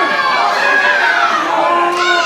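A crowd at an independent pro wrestling show in the Barre Elks hall shouts and cheers loudly, with voices rising and falling in a sustained, near roar.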